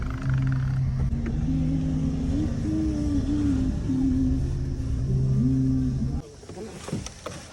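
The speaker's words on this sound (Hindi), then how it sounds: "एक गाड़ी चल रही है, यानी कि ऑटो चल रहा है इस वॉशिंग में" Auto rickshaw engine running inside a car wash workshop, a loud steady droning rumble with a wavering pitch that holds for about six seconds, then cuts off, leaving quieter clattering background noise.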